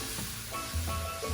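Cornflour being stirred quickly into pepper shrimp (prawns) in a pan, with a soft continuous sizzle and a few scraping stirs that grow slightly louder toward the end, no voices.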